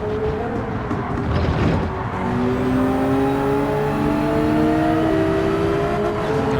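A race car in Gran Turismo 7 passes close by, its engine whining and rising in pitch as it accelerates, then holding a loud, steady roar.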